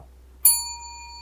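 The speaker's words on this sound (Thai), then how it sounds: "กดกระดิ่ง" A single bright bell strike rings out, struck once with a sharp onset and a clean ringing tone that lingers and slowly fades over a faint low hum.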